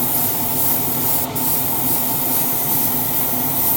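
Airbrush spraying Zero Paints onto a 1:12 Tamiya Yamaha YZF-R1M model engine, a steady close hiss with an extractor fan running underneath, continuous throughout with one brief interruption.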